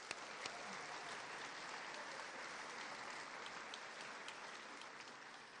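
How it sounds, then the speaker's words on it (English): Steady applause from an audience at a high school varsity awards night, filling the whole stretch evenly with dense clapping and no voices standing out. "let's give them a round of applause for helping me out"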